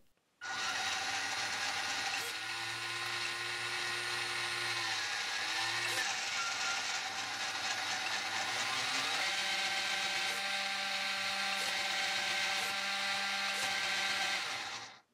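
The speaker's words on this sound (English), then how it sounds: "Now we can connect up the motor to the ESC and see if it works." Small electric motor of a WPL C44KM Toyota FJ40 RC car runs through its ESC, spinning the drive shafts with a steady high whine that shifts pitch a few times, close and continuous with no talking.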